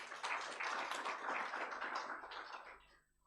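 Round of applause from the audience at a university student council inauguration ceremony, steady dense clapping that carries on for about three seconds before quickly dying away.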